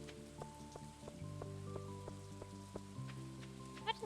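Rain falls in the farming video game Stardew Valley as a soft, steady hiss beneath sustained, tonal background game music, with no talk.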